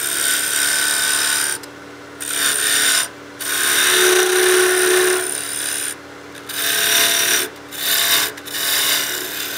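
A wood lathe turning a small birdhouse ornament, the tool cutting in repeated bursts of raspy, scraping noise, each lasting a second or two and broken by short pauses, close and loud with no talking.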